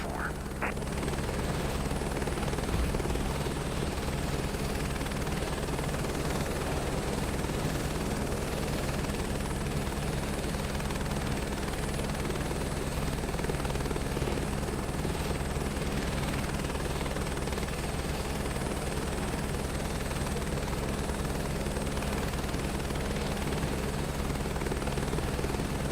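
Aircraft engine droning steadily at full power as a plane takes off from runway 20 in Microsoft Flight Simulator 2024, a loud, even roar that holds throughout, with faint speech over it.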